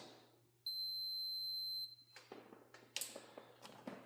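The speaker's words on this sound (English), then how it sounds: "You can hear the voltmeter beeping for continuity through the circuit there." A single steady electronic beep from a multimeter testing continuity on a trailer's running-light circuit sounds for about a second in a quiet space, followed by faint clicks and rustling handling noises.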